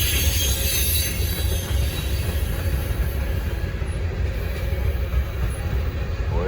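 A long, heavy Norfolk Southern freight train rolls past nearby, a loud continuous rumble of wheels and wagons with metallic squeals and faint rhythmic clacking throughout.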